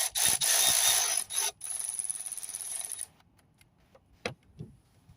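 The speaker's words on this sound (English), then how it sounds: "I'm going to use an electric ratchet" Electric ratchet driving a screw on a Range Rover 3.0, a loud whirring buzz for about three seconds that cuts off, followed by a few faint clicks and taps.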